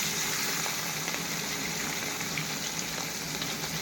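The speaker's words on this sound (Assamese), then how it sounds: "মই মাছটো ফ্ৰাই কৰি আছোঁ" Rohu fish fries in hot oil in a kadai, a steady dense sizzle and crackle held close and even throughout with no break.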